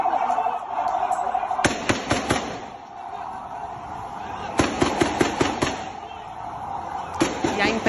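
Three separate volleys of rapid gunshots crack out, sharp and fairly close, with a steady background hum between the bursts.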